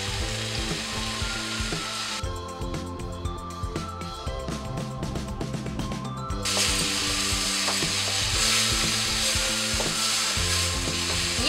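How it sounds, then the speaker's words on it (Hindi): Masala frying in a pan with salt for a spinach potato curry, a steady loud sizzle with clattering scrapes and stirring clicks from the spoon. "मसाला भूनने के साथ में ही स्वाद अनुसार हम नमक डाल देंगे"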